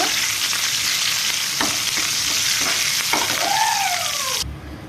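Coriander and curry leaves hit hot oil with a loud, crackling sizzle, while a spoon stirs and scrapes against the pan several times before the sound cuts off abruptly near the end.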